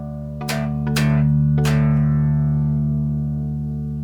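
Rings Eurorack module sounds a sustained D drone, a steady tonal hum beneath three sharp plucked attacks that ring out and decay over a few seconds.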